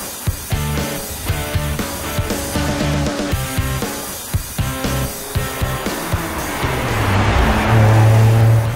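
Car with a V12 engine running, a loud, close, brassy engine note rising and falling through gear changes and revs, building into a louder roar near the end.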